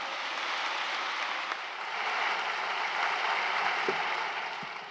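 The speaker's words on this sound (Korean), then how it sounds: "뜨거운 박수 부탁합니다." A large congregation at a joint Easter service at Yeouido Full Gospel Church claps in sustained, even applause that swells slightly midway and tapers at the end.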